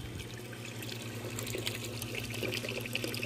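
Water runs steadily from the tap of a farm water tank, a continuous splashing flow heard up close with a low steady hum beneath it and no voices.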